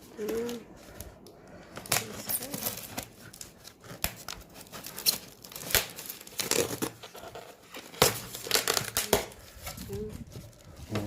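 Plastic shipping bags holding live shrimp are torn and crinkled open, giving close, irregular rustling and crackling bursts throughout.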